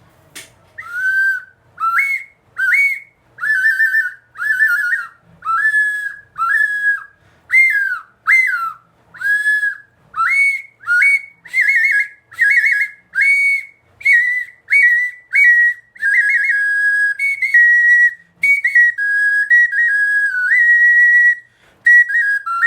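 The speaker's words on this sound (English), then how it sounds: "This is a whistle." A Mayan/Mexica clay whistle with finger holes on the side sounds a long run of short, bright, chirping notes that rise and slide in pitch, played close and loud in a quick steady rhythm with no talk.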